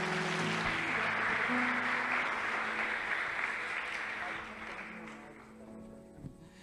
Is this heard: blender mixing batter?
no